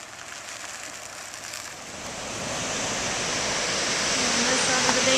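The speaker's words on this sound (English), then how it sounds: "I hear running water, but it's from that thing right there going into a melted part of the lake" Running water pouring into a melted patch of mostly frozen Jackson Lake near a dam: a soft wash that swells into a steady, louder rushing hiss after about two seconds.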